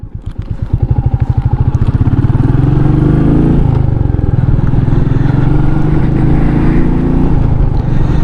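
A Royal Enfield Meteor 350 motorcycle rides along, its loud engine revving and pitch sweeping up and down as gears shift, close and steady throughout.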